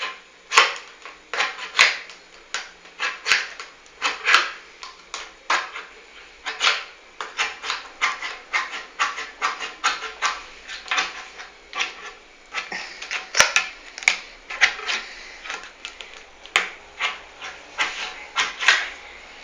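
A can of corn being opened with a metal spoon, heard as a long run of sharp scraping and clicking strokes in an irregular, quickening rhythm, close and fairly loud, with no talking.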